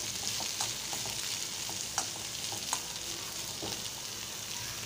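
Potato curry sizzles in a pan as grated fresh coconut and coriander are stirred in, giving a steady soft hiss broken by occasional scrapes and light clinks of a spoon, close by with no talking.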